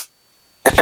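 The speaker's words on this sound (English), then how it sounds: "I apologize that I keep clearing my throat" A short, harsh throat clearing, two quick raspy bursts close to the mic after near silence.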